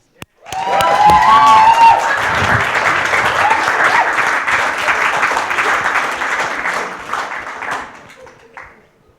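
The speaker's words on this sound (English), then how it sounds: "Get a cheer for Paolo, please." An audience at a church service breaks into loud applause and cheering that swells quickly, holds strong for several seconds with scattered shouts, then tapers off.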